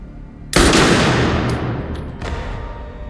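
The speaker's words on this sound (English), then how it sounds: "the Marquis shoots Sharon in the chest" A single loud gunshot from the John Wick film, fired into a man's chest at close range, strikes sharply and then rings out in a long echoing decay, with a fainter second report near the end.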